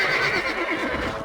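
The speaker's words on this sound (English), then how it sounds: "Hey, the stallion's getting away." Stallion in the video game Red Dead Redemption lets out one loud, close whinny that fills the moment, with no talk over it.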